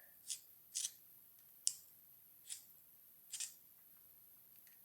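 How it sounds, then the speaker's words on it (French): A tranchet knife draws along a square in a few short, crisp scraping strokes. There are about six quick cuts at irregular intervals, each close and fairly faint. "le tranchet, par exemple, je vais faire une coupe"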